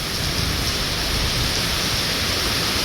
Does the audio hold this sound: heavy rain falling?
yes